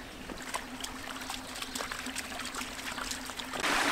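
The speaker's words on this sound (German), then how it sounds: "gibt es hier auch einen Wasserfall und einen Bachlauf" A small mountain stream with a little waterfall trickles and splashes steadily on a hike near the Grünten, with a faint hum underneath and a louder rush of water swelling at the end.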